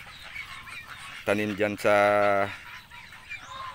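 Domestic geese on a small Philippine farm give a few loud, nasal honks in a short burst, close by, with a voice speaking briefly and quiet yard noise around them.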